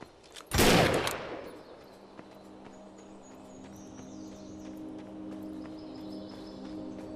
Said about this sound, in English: Those guns are gonna keep firing until we shut down the generator.